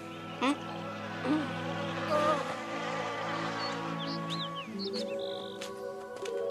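Buzzing insects, bees in an animated forest cartoon, whine in short gliding tones over a steady music bed, with a few brief high squeaks near the end.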